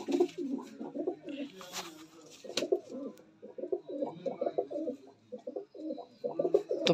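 Close pigeons cooing in repeated soft, throaty phrases, with a few brief rustles and flutters between calls.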